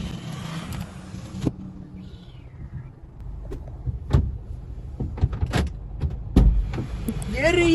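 Someone climbs into a car on a Chennai street at midnight and shuts the door, with rustling and handling noises followed by several sharp thuds and knocks against a low background rumble.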